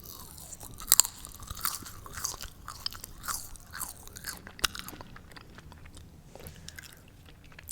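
Crunchy bites and chewing of spicy red cassava chips, close up and crisp, with irregular crackling crunches spread across several seconds and no talking.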